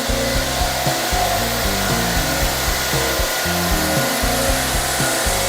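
Loud, continuous whirring of a woodworking machine shaping curves in natural wood, running close by, with a rough grinding texture as material is cut.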